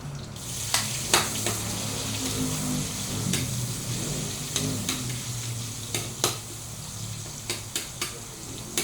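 Garlic sizzles in hot oil in a pan, a steady crackling fry with a few sharp scrapes and clinks of stirring, close and alone with no talk.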